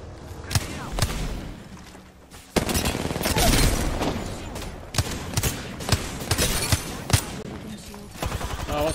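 Bursts of automatic gunfire and sharp shots from a battle royale shooter, loud and irregular over roughly nine seconds, with a busy mix of game effects and occasional voice underneath.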